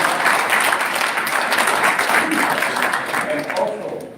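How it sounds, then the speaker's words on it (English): Broadband crowd applause fills a conference hall in Melbourne, a steady wash of many hands clapping at close range that holds loud throughout and tapers slightly at the end. "Can you all give yourself a round of applause for being here?"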